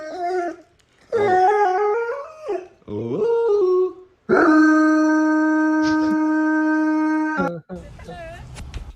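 A dog howls in several wavering, pitch-sliding bursts, then holds one long steady howl; a human voice chimes in briefly at times.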